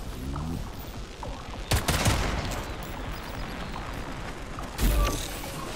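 Pistol gunfire in Atomic Heart, two sharp shots several seconds apart over a steady mechanical background hum.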